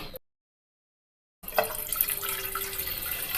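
Water from a tap runs into a cooking pot for boiling wheat dough balls, a steady splashing flow starting abruptly after a silent gap and continuing loud and close to the end.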